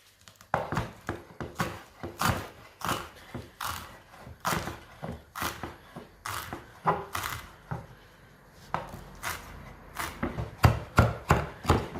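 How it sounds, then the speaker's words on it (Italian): A knife chops fresh parsley on a cutting board, making crisp, irregular thuds at close range that come in uneven bursts with short pauses between them. "ci andiamo a tritare il prezzemolo"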